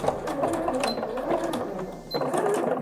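A sewing machine stitching a skirt seam, steady rapid needle chatter close up with a short pause before stitching resumes.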